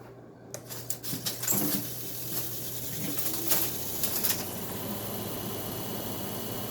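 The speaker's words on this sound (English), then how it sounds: "Start with low fan." Arctic King air conditioner on low fan, likely previously underwater, starting with a few clicks and knocks before settling into a steady whooshing hum with an annoying rattle behind it.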